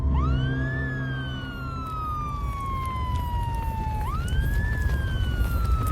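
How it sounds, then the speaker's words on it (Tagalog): A fire engine siren wails in the distance, sweeping up and slowly gliding down in two long cycles over a steady rumbling background. "narinig na namin ni Javier ang malakas na sirena ng bumbero"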